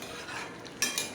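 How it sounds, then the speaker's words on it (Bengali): A spatula scrapes and stirs Bombay duck (loitta fish) cooking in its own released juices in a pan, a soft close scraping followed by two brief metallic clinks, with no talking. "আর এরকমই নাড়তে থাকবো।"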